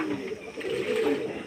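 Pigeons bathing in warm weather give soft, continuous low cooing, close but muffled, with a faint watery hiss in the background and no clear talk.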